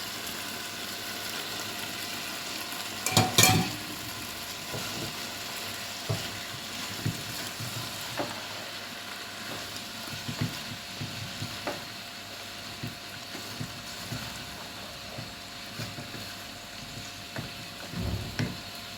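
Peas and grated carrots frying in a pan with onion give a steady soft sizzle, broken by scattered scrapes and clinks of stirring, one louder clatter early on.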